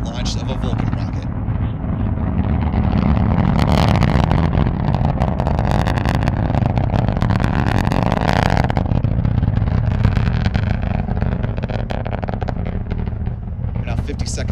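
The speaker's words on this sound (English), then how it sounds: "let's listen to the rumble of the BE-4 engines igniting for the very first time" A deep, continuous rumble of a Vulcan rocket's BE-4 engines at launch roars loudly for the whole stretch, with crackling bursts on top; a voice seems to speak faintly underneath.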